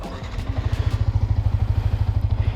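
A Yamaha R15 V3 motorcycle idling close by, a low, even, plain-sounding engine pulse thumping in a fast regular rhythm, with no voices over it.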